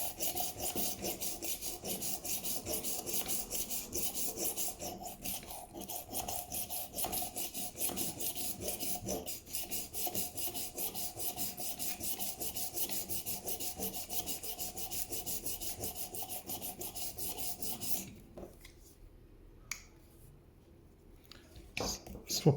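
A knife is drawn back and forth across a 600-grit diamond disc on a Work Sharp rolling sharpener, making a steady raspy scraping that runs continuously for most of the clip and then stops, leaving quiet handling noises.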